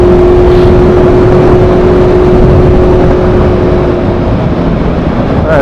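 A motorcycle fitted with an SC Project exhaust, heard close and very loud, gives a sustained, steady engine drone at constant revs, with a slight dip near the end.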